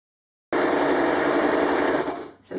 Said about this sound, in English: and then sew on through.